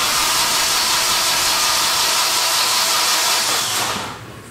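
A Q45 car engine suspected of a blown head gasket cranks over continuously with a steady, dense whirring roar, close and loud, fading out in the last half second.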